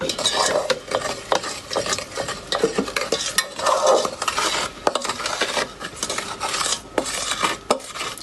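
A spoon stirs double cream into a sugar and flour mixture for Festive Florentines, scraping and clinking steadily against the pan with irregular close-up knocks and swishes, with no talking.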